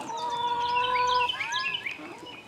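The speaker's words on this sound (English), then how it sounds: "Here's my hens in here laying." Farm hens in a laying area cluck and call close by, a few short rising and falling vocal phrases over soft background noise.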